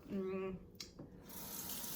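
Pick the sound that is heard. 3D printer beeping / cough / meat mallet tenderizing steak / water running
water running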